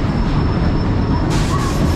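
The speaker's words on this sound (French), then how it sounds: "Et on va voir ces petits trains." A small roller coaster train at Gröna Lund rolls along its rails with a steady, dense rumble and faint wheel squeal, close and continuous throughout.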